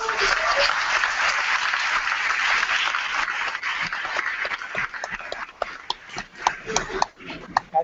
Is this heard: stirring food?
no